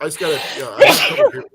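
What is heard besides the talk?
sneeze heard over a phone call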